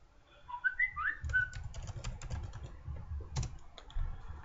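Fingers tap on a computer keyboard in quick irregular bursts of clicks, close and fairly quiet, after a brief whistled tune at the start.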